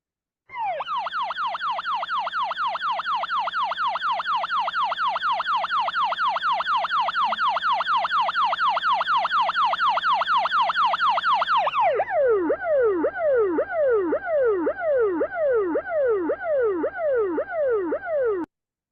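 Simulated ambulance siren in a physics demonstration of the Doppler effect: a loud, continuous wailing sweep with no pauses, whose pitch drops abruptly about two-thirds through as the source passes.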